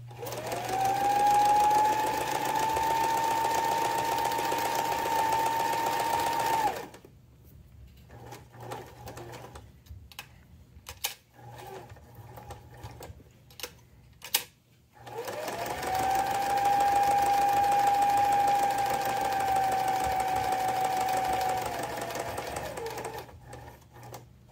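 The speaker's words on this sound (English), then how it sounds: "Stitch around all four edges of your keyring strap about 1/8 of an inch from the edge." Sewing machine stitching around the edges of a cork keyring strap: two long steady whirring runs of rapid stitching, separated by a quieter pause with small clicks and handling sounds, close and clear.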